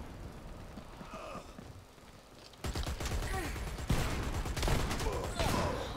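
Rapid gunfire from the online shooter Dirty Bomb, dense crackling bursts that start abruptly partway through and keep going loud and close, with faint voice sounds in the quieter opening.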